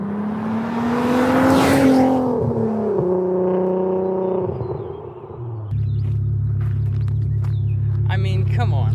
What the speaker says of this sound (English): I'm gonna pull over and let you hear a little flyby here in a second.